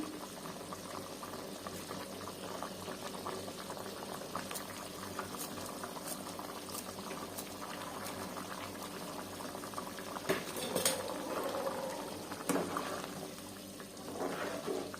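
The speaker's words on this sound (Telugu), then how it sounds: "కొంచెం మంట తగ్గించుకొని మగ్గనిద్దాము, రసంకి పడుతుంది బాగా." A pot of chicken curry bubbles and simmers steadily on a lowered flame at close range, with soft gurgling throughout and a few louder bubbling surges near the end.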